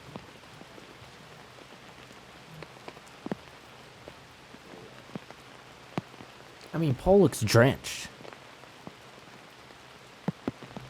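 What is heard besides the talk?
heavy rain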